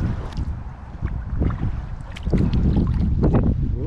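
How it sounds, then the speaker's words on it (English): Wind gusts buffet the microphone while paddling a tiny 2.35 m Pryml Spartan kayak on open water, rough low rumbling bursts that swell and ease, with faint water splashes and no talk. "Ooh, gusts of wind really push it around."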